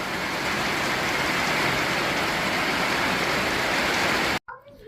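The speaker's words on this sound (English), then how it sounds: "it's raining so hard" Heavy rain pours down in a dense, loud, continuous hiss that cuts off abruptly near the end.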